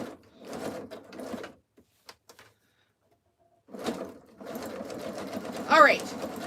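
A sewing machine zigzag stitching around a jelly roll rug runs in short whirring bursts, separated by pauses, with someone talking nearby.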